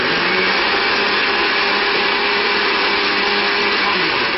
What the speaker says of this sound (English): So I'm going to just blend this real quick.